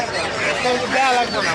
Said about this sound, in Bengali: টঙ্গী বাজার হাঁসের দোকান, প্রচুর পরিমাণে হাঁস আমদানি হয়েছে